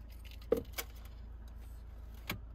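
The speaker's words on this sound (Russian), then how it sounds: "Ключики вот такие у нас" Hyundai Palisade key fobs jangling: a few faint, brief metallic clinks, two close together and one a moment later, over quiet room tone.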